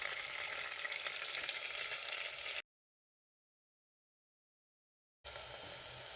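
Four medium onions, minced through a meat grinder, fry in 30–50 grams of butter in a kazan pot with a continuous close sizzle and hiss. The sound breaks off into silence midway, then resumes.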